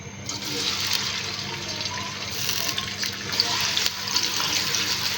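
Chopped onions hit hot cooking oil for a chicken keema with peas, giving a steady broadband sizzle with a soft constant hiss that holds for several seconds, close and fairly even.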